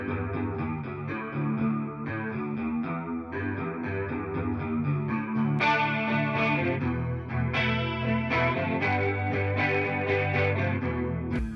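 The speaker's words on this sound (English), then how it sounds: "Here's how my clean guitar sounds with no processing, just the two chorus pedals on these settings." Clean electric guitar through two chorus pedals with no other processing, a shimmering chorus effect, playing chords and melodic lines continuously, steady and full throughout.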